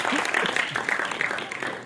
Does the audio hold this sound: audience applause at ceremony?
yes